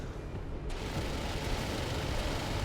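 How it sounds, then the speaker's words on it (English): Su-25 jets make a strafing run in the video game Broken Arrow, a steady roaring, rumbling wash of cannon fire and engine noise that swells slightly after a sharp onset, with no speech. "Oh, you're going to do a strafing run."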